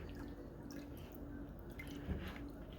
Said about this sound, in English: Give that a quick stir around.